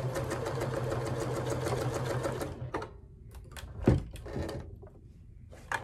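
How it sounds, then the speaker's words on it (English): A sewing machine stitches tote bag straps made from a placemat, running in a steady close whir that stops, followed by a few short bursts and clunks as the fabric is adjusted. "I would stitch forward and then backwards just to reinforce it a little bit"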